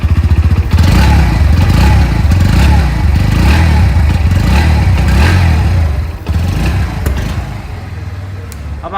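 A Bajaj Pulsar NS 125 motorcycle runs close by, its engine and exhaust thrumming steadily with a few rhythmic revs before settling back toward idle.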